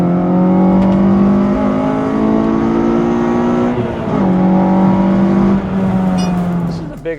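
Honda car accelerating hard with lots of wheel spin, a loud engine howl climbing through the revs, dropping briefly at a gear change before climbing again, then tapering off near the end.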